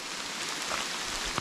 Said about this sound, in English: wandering along the creek and it's raining